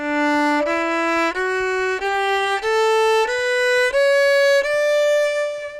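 A bowed violin plays a slow stepwise scale, each note held at an even, flat volume with no swells or tapering.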